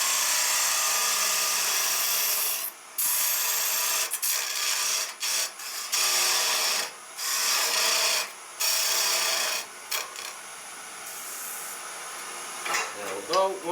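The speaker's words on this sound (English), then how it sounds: "I'm just going to use a parting tool to establish the back of the handle." Parting tool cutting the back of a wooden handle on a lathe, a series of bright rasping cuts, each lasting a second or two, separated by short pauses, close and fairly loud, with no voices.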